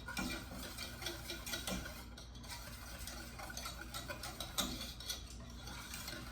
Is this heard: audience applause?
no